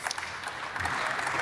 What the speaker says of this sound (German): Und da gibt es dann doch ein bisschen Applaus aus der ehemaligen Fraktion von Matthias Helfferich, der AfD-Fraktion